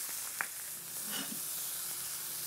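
Onions and a tomato sizzle on a hot Weber grill grate, a steady hissing fry running continuously with a brief pop near the start, close and even.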